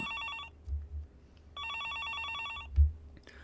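A telephone rings in the Higurashi video game, two bursts of electronic double-tone trilling separated by a pause, with soft low thumps underneath.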